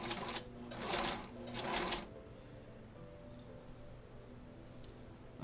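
A sewing machine stitches a Maple Leaf quilt block along a marked line, three short bursts of rapid whirring in the first two seconds, then stopping to a quiet room hum.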